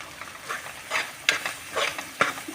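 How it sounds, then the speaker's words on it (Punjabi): Gram flour (besan) stirred and roasting with onions in hot oil for a drumstick pod sabzi, giving a soft steady sizzle broken by a few distinct scraping stirs of the spoon, close and fairly quiet with no talk. "ਆਪਾਂ ਇਹ ਪਿਆਜ਼ਾਂ ਦੇ ਨਾਲ ਹੀ ਇਹਨੂੰ ਵੀ ਥੋੜਾ ਜਿਹਾ ਭੁੰਨ ਲਾਂਗੇ"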